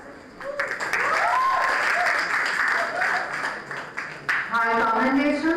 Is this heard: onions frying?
no